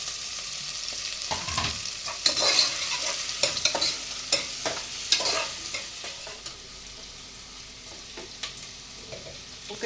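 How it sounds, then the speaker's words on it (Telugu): Onion and green chilli stir-fried with vegetables for a Telugu khichdi, with a low sizzle under repeated scraping and clattering spoon strokes against the pan, irregular and close, with no talk. "ఇప్పుడు మనము ఉల్లిపాయ, పచ్చిమిర్చి వేసేసుకోవాలి."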